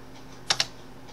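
Two quick, close keystrokes on a computer keyboard during coordinate data entry, sharp and isolated against a quiet low hum, with no speech.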